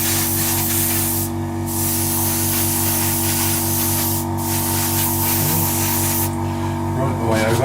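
An airbrush sprays paint onto a 1/48 Airfix Sea Vixen plastic model kit, a steady close hiss running almost throughout with a few brief pauses between squirts.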